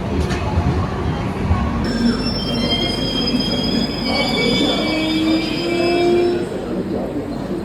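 A long-distance passenger train pulls into an Indian station, its wheels squealing in long, shrill, wavering tones over the steady rumble and clatter of the cars, with voices faintly underneath.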